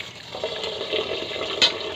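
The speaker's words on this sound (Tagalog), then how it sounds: "Dagdagan pa natin itong tubig dahil ayan." Water is poured from a tap into a cooking pot to top up rice before cooking, making a steady, close splashing and gurgling fill.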